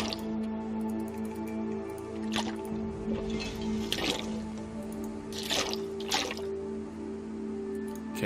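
Water being dropped in The Long Dark video game, heard as several soft drips and squishy liquid splashes spread irregularly over a steady background hum of game ambience.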